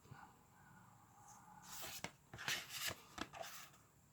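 Glossy art cards from a Code Geass complete anime series box set shuffled and handled up close, with a few sharp papery flicks and slides over a quiet room.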